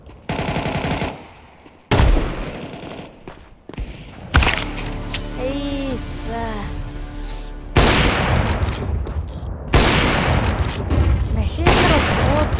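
Bursts of automatic gunfire in Counter-Strike 2, loud rapid volleys separated by brief pauses, with a tonal in-game effect in the middle stretch.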